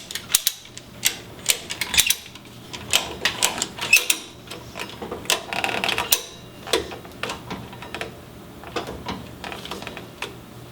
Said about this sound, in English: I'm going to get a ratchet strap, see what I can do.